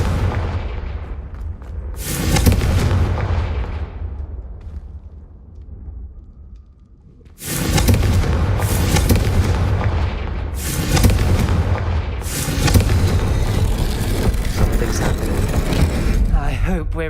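Repeated Confringo fire-blast spell explosions in the Hogwarts Legacy video game, loud booming bursts that swell and roll on, one after another with a brief lull, dense and near.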